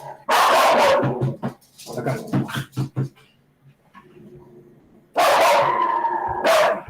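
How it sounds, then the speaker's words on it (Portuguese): Pitbull barking outside, with loud, rapid bursts of barks in two clusters and a quieter whine or whimper between them, close and prominent. "Tem cachorro lá fora."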